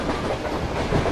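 Train running on track in a PC train simulator game on the Khandesh route, a steady loud rumble with continuous rolling rail noise and no talk.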